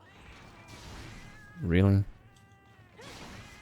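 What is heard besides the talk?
cats meowing in video game Monster Hunter Portable 3rd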